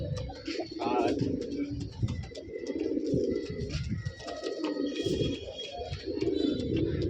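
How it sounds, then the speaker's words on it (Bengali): Two pairs of green Gola pigeons coo softly and repeatedly close by, with occasional chirps and faint background voices. "এই দুই পেয়ার সবুজ গোলা কবুতর"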